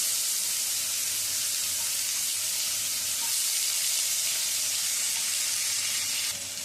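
Cut potatoes drop into hot tempered oil and sizzle loudly and continuously, a dense bright crackling hiss close up that carries on steadily, with no talking.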